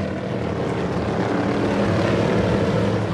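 Big V8 race car engines running on alcohol produce a loud, steady, unbroken droning roar with no pauses.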